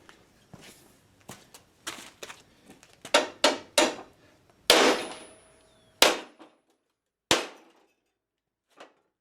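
A hammer whacks a Sears GT6000 mower deck, where a jammed, welded part is being knocked back into place: a string of sharp, close metallic blows at an irregular pace, some ringing briefly, with quiet gaps between.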